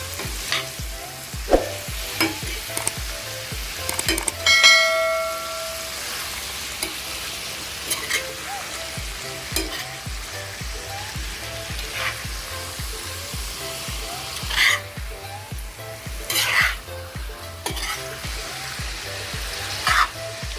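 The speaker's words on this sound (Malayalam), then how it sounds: "അഞ്ച് മിനിറ്റ് ഇതുപോലെ ഒന്ന് ഇളക്കി കൊടുത്തിരിക്കണം." Chicken fry sizzles steadily in a hot pan, with a spoon scraping and stirring through it now and then, close and continuous for the whole stretch, with no voices.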